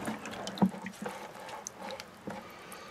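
Rusty steel bicycle cables lowered into a water-filled bin for electrolysis rust removal: a splash and sloshing, then scattered drips and small water movements, close and fairly quiet.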